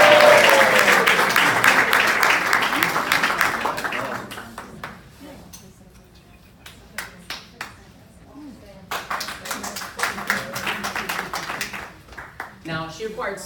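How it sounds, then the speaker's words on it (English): An audience at a sales meeting claps, loud at first and fading, then rising again into scattered, uneven claps with talking throughout. "You're supposed to clap and cheer."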